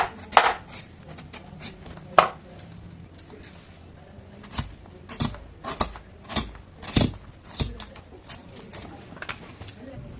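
Raw mango is cut into pieces with a knife: sharp, irregularly spaced chops on a board, about a dozen strikes close up, with a faint background between them.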